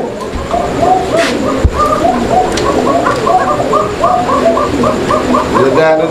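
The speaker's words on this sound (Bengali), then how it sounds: "দেখতেই পাচ্ছেন খুব চমৎকার ডাকতেছে কোকা।" A pair of koka pigeons coo repeatedly in a loft, their rhythmic rolling calls close and fairly loud, overlapping continuously with light background noise.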